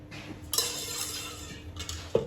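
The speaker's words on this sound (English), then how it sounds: "180 grams of whipping cream. Which we're gonna whisk." Whipping cream being whisked in a bowl, a steady soft swishing with faint clinks of the whisk against the bowl's sides, fairly quiet and continuous.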